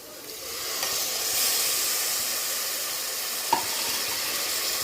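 A paste of ground onion and coriander sautés in a hot pan, giving a continuous soft sizzle and hiss with a brief scrape of stirring, steady and fairly quiet throughout.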